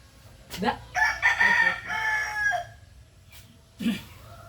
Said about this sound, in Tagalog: Ah, yung manok si Siyo